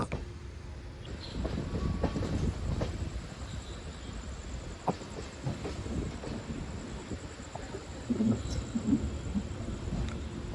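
The Jayanthi Janatha Express, running from Kanyakumari to Pune, rumbles past with a dense, rolling rattle of wagons and occasional clanks. The sound stays moderately loud and continuous throughout, and no one speaks.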